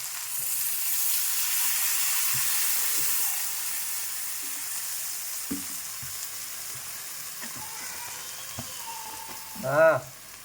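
Milk hits a hot pan of broad bean curry with a steady, close sizzle and bubbling hiss that runs throughout. Occasional light clinks cut in, and a brief tonal chirp sounds near the end.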